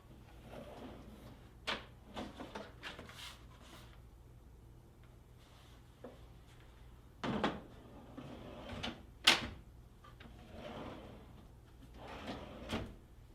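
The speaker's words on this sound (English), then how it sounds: "gently squeeze the orange handles on the locking devices and pull the drawer out of the cabinet" A Blum Tandem drawer with Blumotion slides is unlatched at its orange locking devices and pulled out of a cabinet, producing faint scattered clicks, slides and knocks over a quiet background hum.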